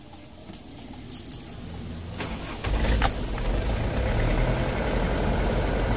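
A car engine cranks and catches after a battery check, preceded by faint key and handling noises, then settles into a loud, steady idle close to the microphone.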